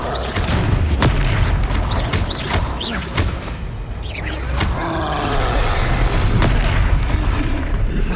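Confringo fire spell explosions in the video game Hogwarts Legacy, a series of loud booming blasts with crackling debris and rumble, continuous and dense throughout.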